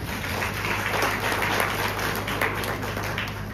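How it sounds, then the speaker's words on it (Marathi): An audience at a motivational talk by Dr. Amit Bagwe applauds in a dense, steady wash of clapping that lasts throughout, heard at a moderate distance over a low electrical hum. "खूप चांगली गोष्ट आहे, तुम्ही टाळ्या वाजवा"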